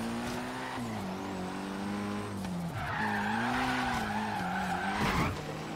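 Car tires skid and squeal while drifting in Forza Horizon 3, with a Mercedes 190E and a 155 on track, the engine droning steadily under long continuous slides that shift pitch through the corners, with no talking.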